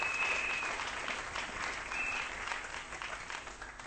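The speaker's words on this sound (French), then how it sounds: "Est-ce qu'on peut acclamer très fort?" A congregation at a church sermon applauds loudly, a thick, sustained wash of clapping that stays strong for nearly four seconds and eases slightly toward the end.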